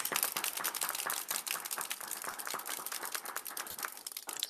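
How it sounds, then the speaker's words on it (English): A dense, continuous patter of many hands applauding at a governing board meeting, steady and moderately distant throughout, with no voices over it. "Let's give a round of applause"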